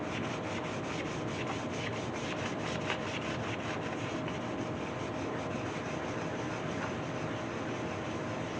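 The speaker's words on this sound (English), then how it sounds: "I'm just smoothing that dye down and trying to get that as even as possible." Wood dye is rubbed and smoothed over a wooden carving in a continuous dense scrubbing hiss, steady and close throughout with no pauses or voices.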